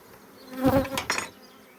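Honeybees buzz at an apiary, a short close hum swelling for about half a second and fading, heard alone without talk.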